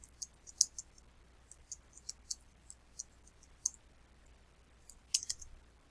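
Sparse, uneven keystrokes on a computer keyboard, clicking one at a time with short pauses between them. The keys sound faint against a quiet room with no talking.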